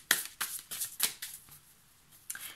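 A deck of cards is shuffled in a quick series of crisp riffling bursts that fade toward the end, close up with no talk.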